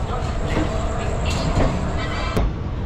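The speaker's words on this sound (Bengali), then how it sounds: "ট্রেন ছেড়ে দিল মালদা টাউন স্টেশন থেকে।" Teesta Torsa Express pulling out of Malda Town station at night, a steady rumble of wheels and carriage noise with clanks and a sharp brief squeal near the end, overlaid by murmuring voices on the platform.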